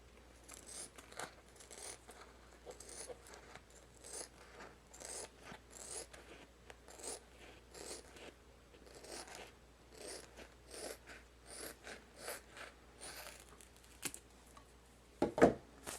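Small scissors snip trim along a rhinestone tumbler wrap, a quick run of soft close crisp cuts in an irregular rhythm, faint and steady, ending with a couple of sharper clicks.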